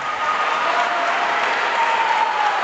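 Large home crowd applauding and cheering at a high school volleyball state tournament match between Knott County and Shelby Valley, a steady, dense roar of clapping from a packed gym with no voices standing out.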